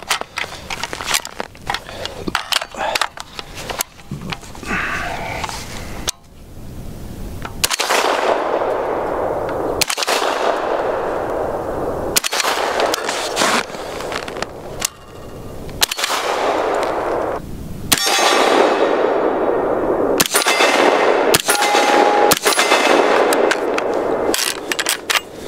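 A JailBroke Sugar Weasel blaster fires a series of loud, sharp shots, each a close burst separated by short pauses and scraping handling noise.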